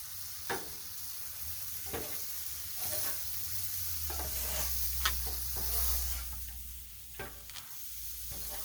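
Cajun fried rice sizzles steadily on a Blackstone griddle while a spatula stirs and scrapes it, the frying hiss continuous with repeated sharp scraping strokes close by and no talking.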